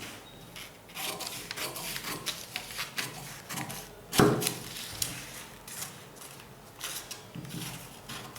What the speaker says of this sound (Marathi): या 4 प्लेट घेतल्यानंतर आपण या मार्किंगवर ते कापून घेणार आहोत.